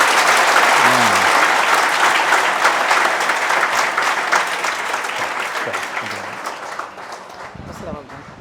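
Loud applause from a gathering of students fills the space, strong at first and slowly thinning toward the end, with a few voices breaking through near the close.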